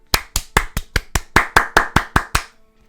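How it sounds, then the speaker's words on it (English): A dozen sharp hand claps in an even, steady rhythm, close and loud, with no talk over them; the clapping stops after about two and a half seconds. "Can we have a clap in here"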